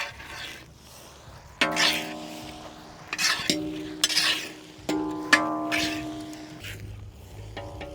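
Shrimp fried rice with scallion greens being stirred in a pan: a few scraping, clinking utensil strokes against metal with ringing tones, close and intermittent over a faint background sizzle, without talk.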